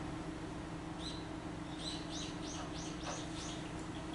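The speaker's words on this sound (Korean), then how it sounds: "까치 소리?" A magpie calls outdoors: a series of about seven short, harsh chattering notes repeated in a quick irregular rhythm, moderately distant and faint over a steady low hum.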